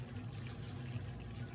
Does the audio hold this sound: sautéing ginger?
no